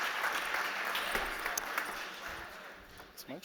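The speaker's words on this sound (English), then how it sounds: "Big applause for Yuri." Audience applause for a contestant at a startup competition for digital and tech solutions: a moderate, somewhat distant patter of clapping that gradually thins out, with a voice speaking near the end.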